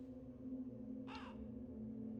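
A crow in the dark puzzle platformer game Cursed Quest gives a single short caw midway, clear above a steady low hum of game ambience.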